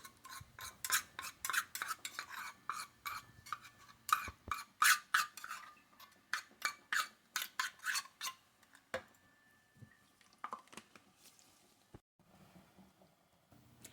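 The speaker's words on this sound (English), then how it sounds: "It's starting to melt, and I'm just giving it a little stir using a spatula." A spatula stirs melting soap base for a turmeric soap, giving a run of quick, close scraping and clinking strokes in an uneven rhythm that thin out toward the end, with no talking.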